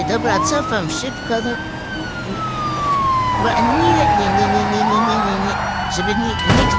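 Police siren in a video game wailing up and down steadily behind fast engine and game noise, while someone talks excitedly over it.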